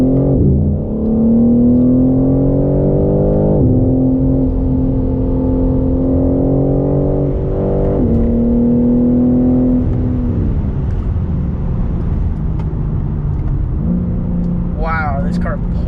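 A 2024 BMW M3 Competition sedan accelerates on the road. Its engine drone rises in pitch through several gears with brief dips at each shift, loud and steady throughout the run.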